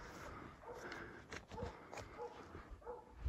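Hunting dogs bay at a wild pig during a pig hunt in New Zealand, faint distant barks and yips in short repeated bursts over outdoor background noise.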